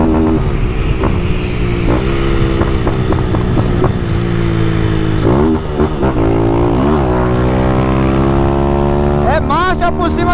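A Honda Fan 160 motorcycle fitted with a Fortuna exhaust revs hard and shifts through gears, its engine note loud and close, dropping at each shift then climbing again, with a voice talking over it.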